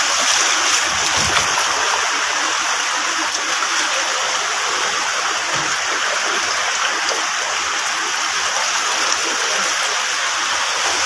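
Rushing floodwater of the River Ravi during the August rainy season, a loud, continuous broadband roar of fast water that barely changes throughout.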